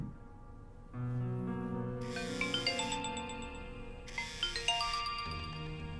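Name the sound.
phone ringing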